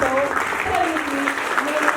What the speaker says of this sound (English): Please welcome all with a round of applause